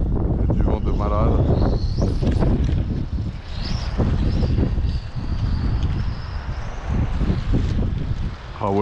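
Strong wind buffets the microphone outdoors while a 1:8 scale pan car RC car is driven, a loud continuous low roar with gusty surges throughout.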